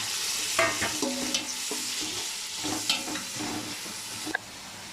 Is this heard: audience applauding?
no